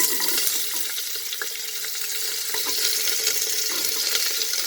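Carrot pieces fry in hot oil for a vegetable tahari, a steady soft sizzle with light crackles and a faint stirring scrape, heard alone without talk.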